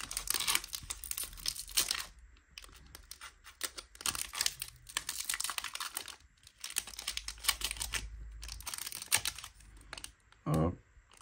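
A Topps Inception Bundesliga 24/25 trading card pack wrapper is opened slowly by hand, producing soft, intermittent crinkling and tearing in uneven bursts, close and faint, ending with a brief dull thump.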